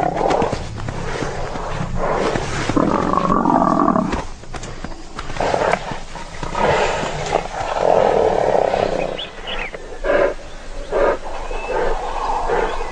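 A wild lioness fights horned, thick-skinned prey, letting out intermittent growling roars and strained snarls amid scuffling, close and fairly loud across the whole struggle.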